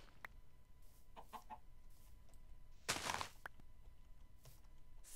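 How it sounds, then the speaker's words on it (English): Chickens cluck in the Minecraft video game, scattered short clucks and a louder burst near the middle against quiet ambient game sound, no talking. "Thank you, chickens, for all laying eggs for me."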